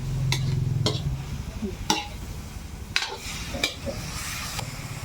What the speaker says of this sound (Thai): คัวให้เขาเครื่องก่อน